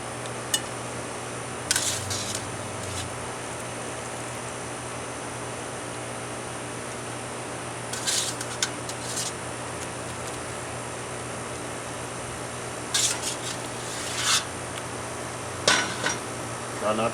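Cajun boiled shrimp being scooped out of a large hot pot, with a few brief bursts of metal clanking and scraping from pot and utensils, separated by long stretches of steady background hiss.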